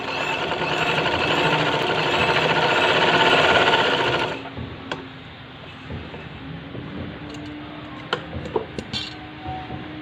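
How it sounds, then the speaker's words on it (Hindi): A sewing machine stitches frock fabric diagonally, running loud and fast for about four seconds, then stopping, followed by quiet handling clicks and small taps. "इधर से आपने थोड़ी सी इस तरह से तिरछी सिलाई लगानी है"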